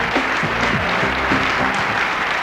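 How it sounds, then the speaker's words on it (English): Audience applause for the ten semi-finalists at the Mrs World 1999 pageant in Jerusalem, a dense, steady wash of clapping from a large crowd that holds evenly throughout. "a big round of applause for our 10 semi-finalists"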